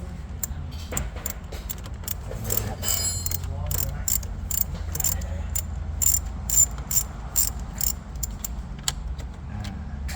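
Socket ratchet wrench removing bolts from a Ford Focus radio, with repeated sharp metallic clicks and ratcheting close up over a low background hum.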